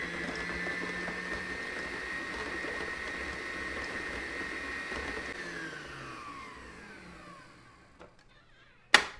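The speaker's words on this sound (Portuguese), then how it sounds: "Vou ligar minha batedeira e a gente vai começar a bater essa manteiga e o açúcar" Electric stand mixer beating butter and sugar for a lemon curd tart, a steady motor whir with a high tone that winds down and stops, ending in a sharp clunk.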